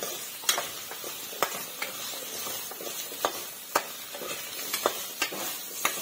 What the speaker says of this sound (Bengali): অল্প হলুদ গুঁড়া দিয়ে ভেজে নিব।